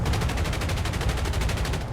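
Aircraft machine guns firing in War Thunder, from the turrets of a PB4Y-2 Privateer bomber, a loud continuous burst of rapid, evenly spaced shots lasting about two seconds.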